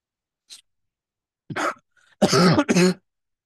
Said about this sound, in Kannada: ಕೆಮ್ಮು ಸ್ವಲ್ಪ ಕಡಿಮೆ ಆಗಿದೆ